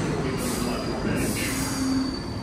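A train rumbles steadily past at close range, with a sustained roar and faint high metallic squeals from the wheels.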